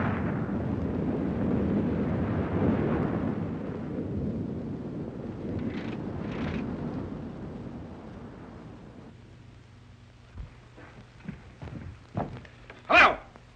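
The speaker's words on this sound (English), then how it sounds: "There's been an explosion, sir." An explosion effect from a 1938 film: a broad, loud rumbling roar fills the first several seconds and slowly fades, followed by scattered sharp knocks and a louder burst near the end.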